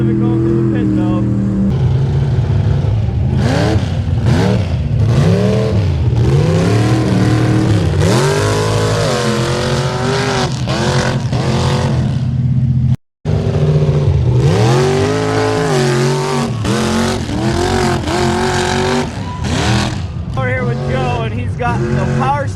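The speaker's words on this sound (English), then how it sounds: "There's the old Hoopty Suburban making her way out." An old Chevrolet Suburban claws its way out of a mud bog pit, its engine loud and close, revving hard in repeated rising and falling surges with one brief dropout midway.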